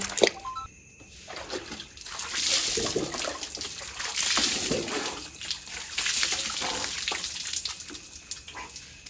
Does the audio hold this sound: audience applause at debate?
no